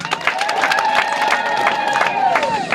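Crowd at a CCM anniversary rally clapping and cheering together, a dense steady roar of applause with a held keyboard or voice tone running through it, close and loud throughout.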